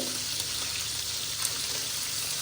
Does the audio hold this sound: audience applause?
no